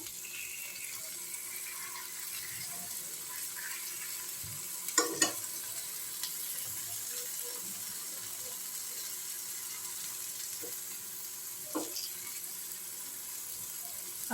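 Fish frying on a tawa gives a faint, steady sizzle throughout, broken by a few soft clinks and scrapes as the pieces are turned, with no talking.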